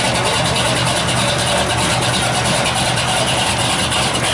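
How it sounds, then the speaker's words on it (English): A C10 pickup's engine roars loud and continuous at a car show, held at sustained high revs for a burnout with a steady raspy exhaust drone throughout. "Wild woman in her C10 pickup. About to smoke the old hides here."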